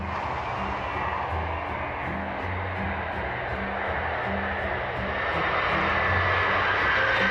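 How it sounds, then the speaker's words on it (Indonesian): A Boeing 747's engines roar steadily at a distance during a rejected takeoff test, the low rumble growing slightly louder toward the end, with no voices. "Salah satu uji coba paling ekstrim yang pernah dilakukan Boeing pada 747 adalah rejected takeoff"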